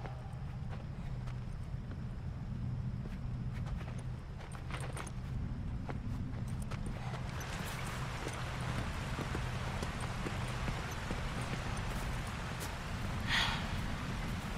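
Horse hooves clip-clop in an irregular walking rhythm within The Last of Us: Left Behind, moderately close over faint ambient noise.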